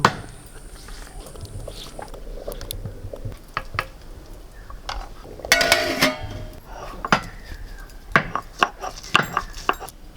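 Layer rooster meat being chopped with a new meat chopper in a home kitchen: scattered knocks and clatter, then a run of sharp, close, repeated chopping strikes near the end.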